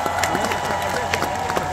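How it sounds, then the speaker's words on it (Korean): Applause from a concert audience at a trot singer's live show, a steady wash of clapping and crowd noise under a loud amplified hum, continuous throughout. "다시 한번 큰 박수 한번 부탁드립니다"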